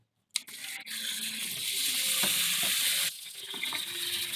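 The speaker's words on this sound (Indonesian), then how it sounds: "Nah, kita tumis." Spices sautéing in oil in a pan while making homemade noodles, a steady close sizzle with occasional stirring scrapes and a brief pause near the end.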